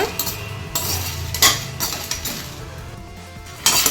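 Chettinad chicken kuzhambu masala being slowly roasted in a pan, with a utensil repeatedly scraping and clinking against the metal in irregular strokes over a low, steady sizzle, close and fairly loud.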